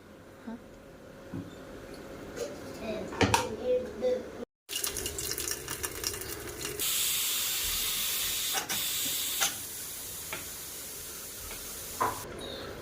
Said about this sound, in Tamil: குக்கர் ஓப்பன் பண்ணியாச்சு